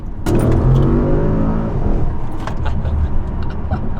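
An Audi C7/C7.5 S6/S7 fitted with a 034 Motorsport X-pipe and factory mufflers revs up loudly and close, the engine note rising sharply, then dropping back to a lower, rumbling idle.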